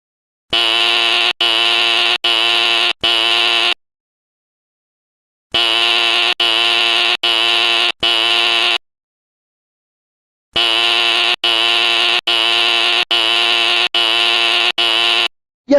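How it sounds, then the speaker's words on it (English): A pulled fire alarm rings loudly and electronically in three bursts of rapid pulses, each lasting about three seconds, with silent gaps between the bursts and no voices. "I'm going to pull the fire alarm."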